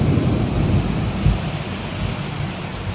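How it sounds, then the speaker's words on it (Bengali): Heavy rain pours down steadily during a thunderstorm, a loud dense wash of noise with deep low rumbles of thunder rolling underneath and one brief louder swell. "ও প্রচুর বৃষ্টি হচ্ছে"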